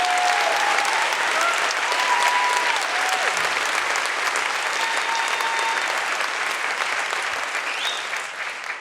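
A large crowd at a live event in Cleveland applauds steadily with scattered cheers and whistles, the clapping gradually tapering off toward the end.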